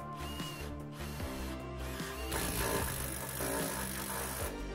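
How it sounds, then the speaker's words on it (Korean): A Festool Torsion cross bit driven into a screw by an impact driver, the tool hammering steadily and loudly with a dense mechanical rattle that grows harsher partway through and runs without pause. "임팩 터지는 소리 잘 들리시죠?"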